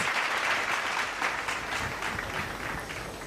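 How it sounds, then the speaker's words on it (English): A round of applause from the audience at a seminar on metal as eco-friendly packaging, steady dense clapping heard fairly close and sustained, slowly fading slightly. "Everyone, can we have a huge round of applause?"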